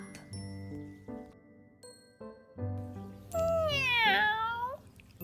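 A voice imitates a cat, giving a drawn-out meow over soft background music with light chimes.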